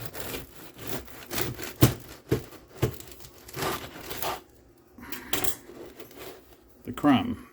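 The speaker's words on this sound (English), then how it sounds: "I promised you I would cut open a slice" A knife saws through a crusty rustic sourdough loaf, giving irregular crackling, scraping strokes and crunchy snaps of crust, fairly quiet and close, with brief pauses between cuts.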